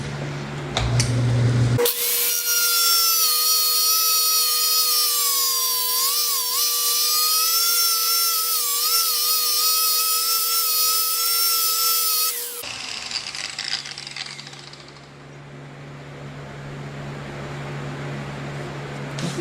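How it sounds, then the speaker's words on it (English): A power tool fitted with a flap wheel spins up to a loud, steady high-pitched whine for about ten seconds, then shifts to a rougher, broader grinding hiss as the wheel sands the workpiece. "And flap wheel's still going okay."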